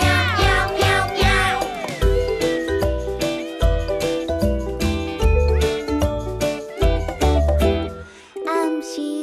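A singer imitates cat meows in a Taiwanese children's song, repeating bright meow-like syllables in quick rhythmic phrases over loud musical backing that drops away near the end.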